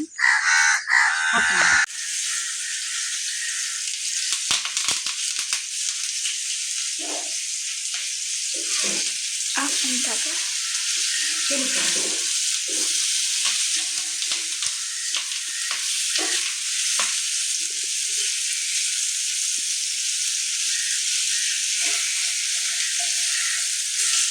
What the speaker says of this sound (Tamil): இப்போ மீன் ஊற வச்சு ஒரு 1/2 மணி நேரம் கழிச்சு வறுத்து சாப்பிட்டோம்னா